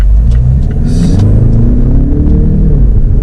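Mazda CX-5 2.2 diesel FWD accelerating hard at full throttle, a loud, close engine rumble with rising harmonics as the revs climb, no talking.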